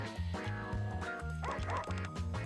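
A dog, male, barks repeatedly under a tree in an animated series, the yips and bow-wows coming in a quick close rhythm over a steady musical background.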